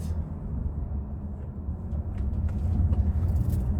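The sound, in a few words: Seat Tarraco 2.0 TDI 150 diesel engine running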